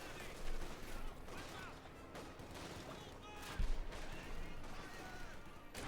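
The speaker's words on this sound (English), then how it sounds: "Another incendiary barrage going off there, lighting up the area" Incendiary barrage shells landing in the Company of Heroes 2 strategy game, a dense rumble of fire and blasts with one sharp explosion near the middle, while speech runs over it throughout.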